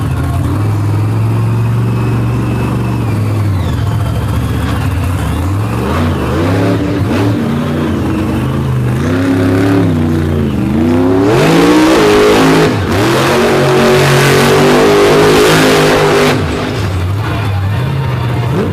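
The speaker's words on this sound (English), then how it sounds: "Brand new engine sounding good in the back of the Patrick chassis" A brand new Richard midget race car engine in a Patrick chassis revs hard on a dirt track during an All Star kickoff show at Brooksville, with rising and falling throttle sweeps, loud and continuous.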